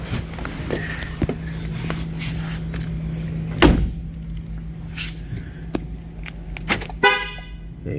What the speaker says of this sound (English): There you go, we have a beep